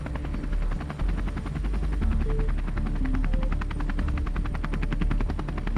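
A steady, loud, pulsing rotor-like drone of an aircraft taking off in a night reenactment, holding constant throughout with faint higher tones drifting over it.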